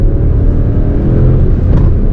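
A Seat Ibiza 1.0 TSI three-cylinder engine under full throttle from about 3000 rpm, a loud, steady, close-up droning growl with a rising strain and no pauses.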